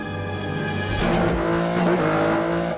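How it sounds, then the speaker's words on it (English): An Aston Martin engine roars through a gear change during a car chase in the film Quantum of Solace, loud and dominant, with the pitch dropping and climbing again around the shift and tire noise mixed in. "The engine sounds from changing gears, totally overpowering everything else to drop us into the chase from afar."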